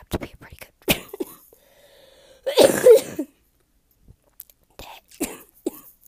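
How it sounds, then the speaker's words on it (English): A person in a hospital bed coughs once in a loud, harsh burst, close by, set among short snatches of quiet speech and near silence. "Sorry, I had to cough"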